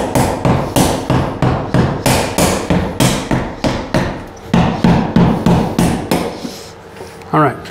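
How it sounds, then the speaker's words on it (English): Hammer striking a chisel to pry a fitting off a drain pipe, loud close metallic blows in a steady rhythm of about two per second, with a brief pause near the end. "Take our chisel and we're just gonna pry it all off."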